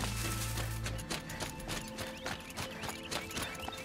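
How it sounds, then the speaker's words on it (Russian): Horse hooves in the Horizon Zero Dawn video game, a steady clip-clop of footfalls at moderate loudness over a busy game soundscape, with a low droning tone at the very start. "Сейчас коня вызовем."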